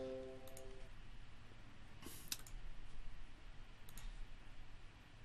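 Faint, sparse computer mouse clicks and a few keyboard taps while copying and pasting at a desk, quiet isolated clicks over low room hiss, no talk.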